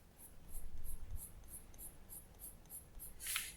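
Rapid light flicking strokes of a light umber colored pencil on paper, about a dozen short crisp scratches in a steady rhythm, close and faint against a quiet room.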